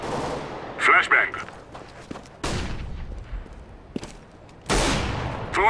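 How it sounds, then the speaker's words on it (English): A flashbang grenade detonates in the shooter game CS:GO, with two sharp, loud broadband bangs a couple of seconds apart that each fade quickly, following a burst of crackling gunfire and clatter. "Deploying flashbang."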